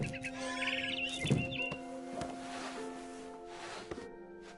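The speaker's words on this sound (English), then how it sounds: "Then I heard chirping outside my window. It was a barn swallow going back to her nest." A barn swallow chirps in the video game What Remains of Edith Finch: a few quick, thin bird calls early on over a steady tonal game-music drone.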